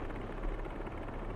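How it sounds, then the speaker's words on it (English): Low, pulsing whir of helicopter rotor blades in the video game Marvel's Spider-Man 2, a steady throbbing drone heard alone for a brief moment. "helicopter's blades."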